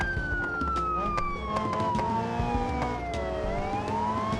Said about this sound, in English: For this one chase, we'll have our sirens on.